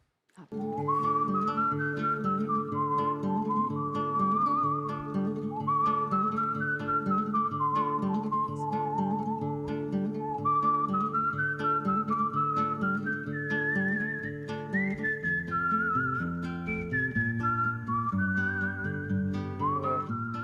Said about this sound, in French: En sifflant sur les bandes originales des western spaghetti de Sergio Leone.